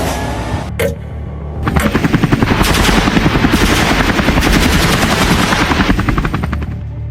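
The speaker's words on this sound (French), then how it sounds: "Des tirs éclatent, des grenades lacrymogènes sont lancées" Gunfire erupts during a 1 a.m. night assault amid tear gas grenades, heard as loud, rapid, rhythmic bursts of shots that continue for several seconds over a dense rumbling background.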